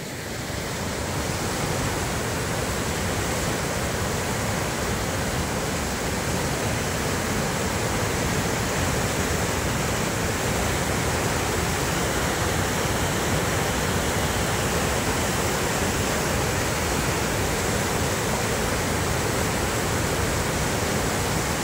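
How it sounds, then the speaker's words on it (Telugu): Loud, continuous roar of the flooded Musi River rushing under the Chadarghat bridge in Hyderabad, a dense unbroken torrent that stays steady from start to finish with no voices. "చూడండి అలలు ఏ విధంగా ఉన్నదో మనం గమనించవచ్చు."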